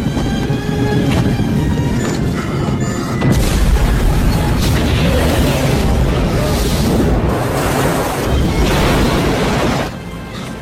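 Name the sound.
car bomb explosion in an action film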